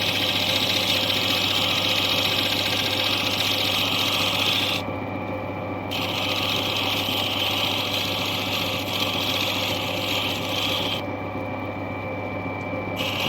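Steady, close grinding of an Andamooka opal against a 270 grit wheel on a magnetic Gem Master lapidary machine, a continuous whirring rub with a constant hum that shifts slightly twice as the stone is repositioned.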